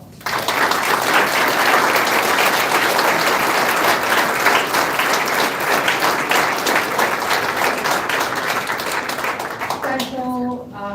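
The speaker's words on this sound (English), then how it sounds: "So let's give him a round of applause." A council chamber audience gives sustained, loud applause for a police officer at a city council meeting, dense clapping that holds steady before tapering off as a voice begins speaking at the end.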